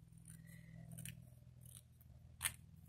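A few short, crisp snips of scissors cutting paper over a low steady hum, with one sharper cut near the end.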